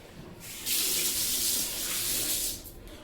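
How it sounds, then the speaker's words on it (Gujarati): Water gushes from a tap while feet are washed, a steady close hiss and splash that starts abruptly, runs for about two seconds and then cuts off. "હવે પગ ધોવા જઈશ."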